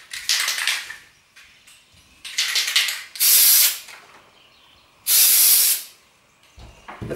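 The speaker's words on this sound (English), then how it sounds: "So I'm using a can of spray adhesive." Spray adhesive hissing from an aerosol can outdoors, in several bursts: short broken sprays early on, then two long, loud, steady hisses, each lasting under a second, with brief clatters between.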